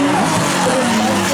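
Rally cars drifting at high speed in a drift show at the Rallye de Wallonie, loud continuous engine roar with squealing tires filling the moment, with crowd or commentary noise blended underneath.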